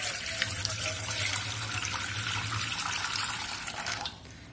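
Tap water runs steadily into a bowl of salt, a close, continuous splashing stream that cuts off near the end.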